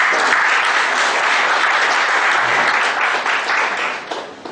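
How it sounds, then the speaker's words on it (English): Loud, dense applause from an audience thanking a speaker after a forensic and information technology talk, sustained clapping throughout before tapering off toward the end. "Let us thank him for his knowledge, valuable time and knowledge sharing with a round of applause."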